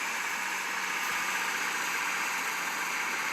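A tractor engine from the farming video game American Farming runs steadily at a constant drone, a loud, even rumble with no breaks or speech over it.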